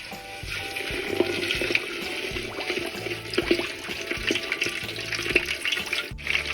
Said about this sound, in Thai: หลังจากเนี้ยผมจะนำขาหมูไปทอดกันครับ